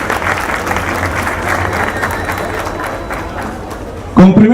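Applause from an audience at a public transparency fair in Mexico City, dense and steady for about four seconds before cutting off as a voice begins speaking.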